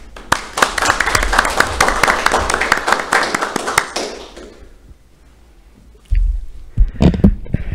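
An audience at a Korea Accounting Institute anniversary web seminar gives a short burst of brisk clapping, individual hand claps distinct, lasting about four seconds before fading to quiet, followed by a few handling thumps.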